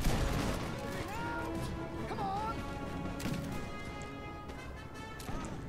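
Rifle fire from infantry in a strategy game, heard as scattered shots and crashes under steady battle noise and music, with a voice talking over it.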